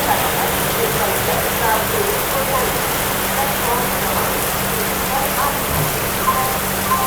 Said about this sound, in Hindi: तो ये देखो बारिश पड़ने लगी है अपनी झांसी रेलवे स्टेशन पर